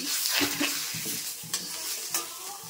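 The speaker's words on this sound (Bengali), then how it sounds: "তো এইবারটা আমি দিয়ে দিলাম চিকেনগুলো" Chicken pieces dropped into a pan of fried onions for a Bengali-style chicken stew, sizzling steadily while being stirred, with repeated scraping strokes and a couple of sharper clatters, close and fairly loud.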